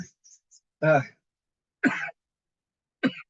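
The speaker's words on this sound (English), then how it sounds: "I really hate this cough." Three separate coughs spaced about a second apart, each a short harsh burst close to the mic, with quiet pauses between them.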